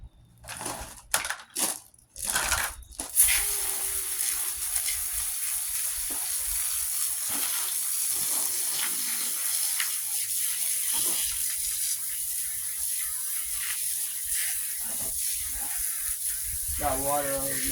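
A Duracraft 10-inch white box fan being rinsed outdoors with a steady, loud spray of water that hisses continuously after a few short bursts and clatters at the start, with brief voices early on.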